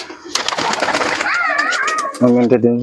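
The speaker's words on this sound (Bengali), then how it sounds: "দুটো কবুতারি একদম নিচে ছেড়ে দেওয়া হলো" Giribaz pigeons are released low, giving a quick burst of wing flapping and soft cooing close by, mixed with people talking over them.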